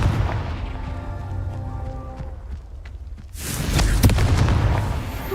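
A Confringo fire spell explodes in Hogwarts Legacy, a loud booming blast that erupts suddenly after a quieter stretch of rumbling ambience, with sharp crackling bursts trailing off.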